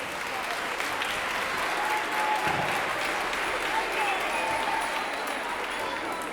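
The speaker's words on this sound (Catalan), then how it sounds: "Un fort aplaudiment." Audience applause at a spring school concert, continuous broad clapping from a large crowd in a hall, sustained evenly throughout without a break.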